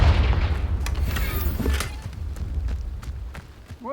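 Confringo spell blast cast in a Harry Potter video game, a loud booming burst at the start that rumbles and fades over a few seconds amid faint game ambience.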